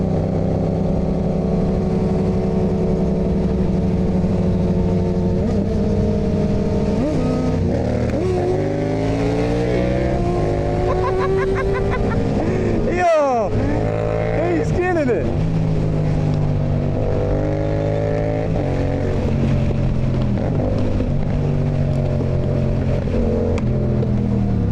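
Road traffic passes during a group bike ride, with car and motorbike engines rising and falling, revving and whooshing by nearby in a continuous loud stream.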